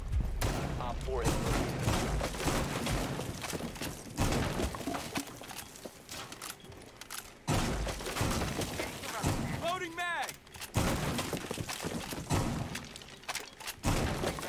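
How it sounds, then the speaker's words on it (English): Gunfire rakes along the bottom of a wall in Rainbow Six Siege, uneven bursts of shots mixed with thuds and splintering breakage, recurring through the stretch while someone talks over much of it. "Now you're probably wondering why I'm shooting along the whole bottom of this wall."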